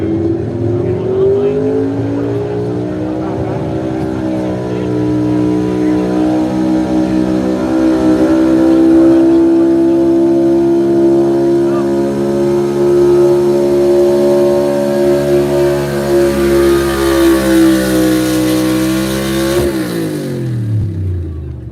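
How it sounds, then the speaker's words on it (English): A pulling vehicle at a tractor pull in Miller's Tavern, Virginia, revs its engine up steadily with the clutch held, a loud, sustained rising drone that holds high for about twenty seconds before cutting off abruptly. "Running the clutch. Everything's ready to go. Bringing up the RPMs. You'll hear him bring it up and just trying to ride off that clutch."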